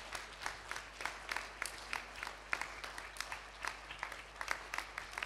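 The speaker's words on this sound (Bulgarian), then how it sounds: "Да благословете децата с много аплодисменти и с много подкрепа." A church congregation applauds children, steady scattered clapping from a modest crowd heard at a slight distance, fairly faint and continuous throughout.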